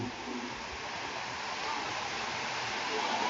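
Sea waves wash up on a beach at night beside a beachfront hotel, a steady close roar of surf and rushing water with no clear breaks.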